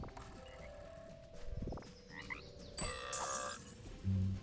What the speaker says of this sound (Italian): Ammazzato una rana.